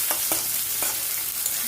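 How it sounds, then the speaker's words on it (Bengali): Chopped onion frying in a pan for a pabda fish curry gives a loud, continuous close sizzle, broken by a few quick stirring strokes, with no talking. "পেঁয়াজ কুচি দিয়ে দিচ্ছি।"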